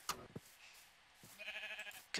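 A sheep in the Minecraft video game lets out a faint, quavering bleat, heard alone among a few soft clicks and taps.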